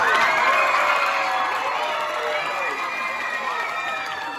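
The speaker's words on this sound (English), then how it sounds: "So when he puts those signs up, you're going to clap and yell." A children's audience at a vacation Bible school play erupts in loud, continuous cheering and yelling, a bright crowd roar that slowly tapers over a few seconds.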